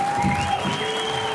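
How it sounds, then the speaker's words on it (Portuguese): Steady audience applause at a samba award ceremony, with a continuous wash of clapping and a sustained tonal hum running underneath throughout the short stretch. "Uma grande salva de palmas para os sócios da Mangueira."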